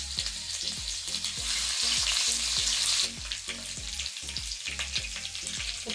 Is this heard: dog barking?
no